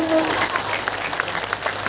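An audience at an Islamic religious gathering honoring an anniversary of passing bursts into scattered clapping, moderately loud and uneven, mixed with some crowd murmur.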